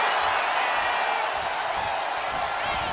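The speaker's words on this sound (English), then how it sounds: "CM Punk playing to the crowd now." Video game crowd noise from a WWE 2K26 Hell in a Cell wrestling match, a dense, steady roar of the arena audience that stays loud and unbroken throughout.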